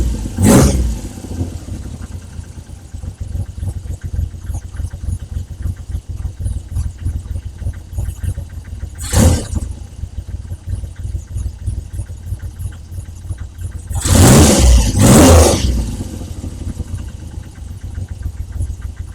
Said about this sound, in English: That tick over is now settling.